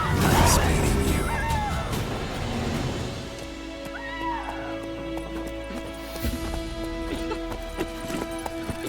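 Roach, the horse in The Witcher 3, clip-clops along at a trot with rhythmic hoofbeats, loud at first and then settling into a steadier, quieter gait, with a brief whinny and some game ambience.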